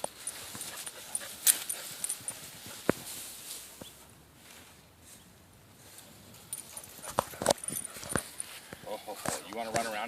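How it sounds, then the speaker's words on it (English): A young dog dashes around outdoors after a bird, with scattered footfalls, rustling and panting-like bursts over a steady background, while a person talks nearby. "Good dog."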